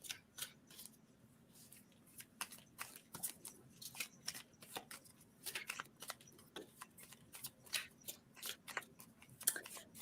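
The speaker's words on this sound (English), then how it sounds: "let's go ahead and we'll throw some cards and kind of see how this lays out" Reading cards being shuffled and dealt out, a rapid run of crisp papery riffles, flicks and slaps close to the microphone, continuing in an irregular stream with no talk over it.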